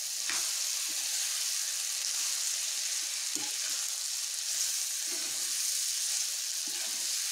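Chopped potatoes fry in a pan for batata bhaji, a soft, even hiss broken by a few dull knocks and scrapes from stirring, with no voices.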